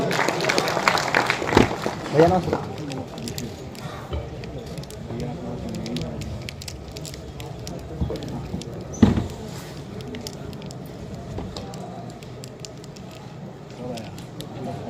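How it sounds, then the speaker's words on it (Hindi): Audience applause at a Hindi poetry gathering (kavi sammelan) in Daltonganj, a dense sustained patter of many hands under a murmur of voices, swelling early and then settling into a steady ripple across the hall. "जोरदार ताली इनके लिए"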